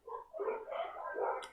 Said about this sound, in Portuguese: Eu tô ouvindo os cachorros latir